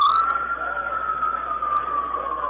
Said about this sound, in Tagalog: Ano yung wangwang na yun?